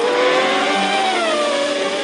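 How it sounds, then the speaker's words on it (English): Ferrari V12 Formula One engine from the mid-1990s screaming at high revs, a loud, continuous shrieking wail with pitch shifting slightly as it runs, heard alone without talk. "the mid-90s saw Ferrari as the only team on the grid still using ear-splitting V12s, and that sound remains truly iconic"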